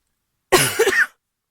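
One short, harsh cough up close, following a moment of silence.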